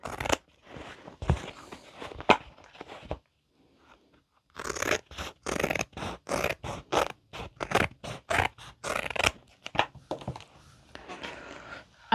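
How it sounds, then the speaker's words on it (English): Rapid crisp snipping of scissors through fabric, a run of close sharp cuts with a short pause before the cutting resumes. "I'm going to use my regular scissors on the rest"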